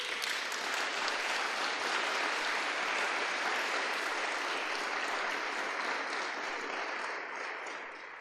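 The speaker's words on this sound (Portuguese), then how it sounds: "Vamos aplaudir a Jesus?" A church congregation breaks into sustained, thick applause. The clapping is continuous, full and even across the room and fades a little in the final second.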